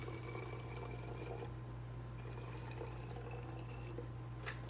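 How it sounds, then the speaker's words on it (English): Liquid is poured into a spray bottle, giving a faint, steady trickle and splash up close for several seconds, set against a constant low mains hum. "you're gonna pour it into your sprayer bottle"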